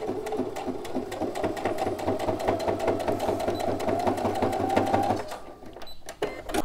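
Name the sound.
sewing machine stitching piping on a phone pouch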